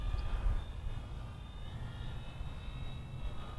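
A steady, low drone comes from the engine of an F4U-4 Corsair model airplane as it lands on a runway without flaps. It stays fairly faint and even throughout and has no speech over it.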